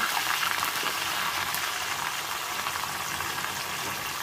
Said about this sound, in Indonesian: kemudian lanjut saya akan goreng kacangnya ya teman-teman